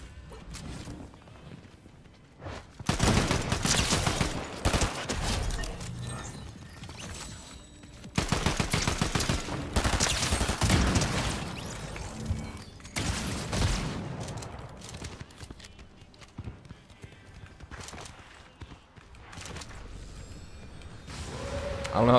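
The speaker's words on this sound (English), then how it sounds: "Oh, it shoots three shots like pretty quick." A burst-fire gun in a battle royale shooter fires quick three-round bursts in several loud clusters spread across the stretch, broken by quieter gaps and faint mechanical clatter.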